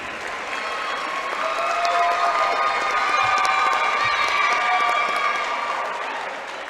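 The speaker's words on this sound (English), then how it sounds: "Let's get a round of applause for these members of the ICC family." Sustained applause with some cheering from a crowd in a gym at a high school men's basketball game, steady and full throughout, honoring members of the school community.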